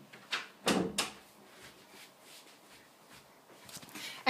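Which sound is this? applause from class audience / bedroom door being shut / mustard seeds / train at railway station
bedroom door being shut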